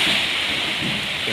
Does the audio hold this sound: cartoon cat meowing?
no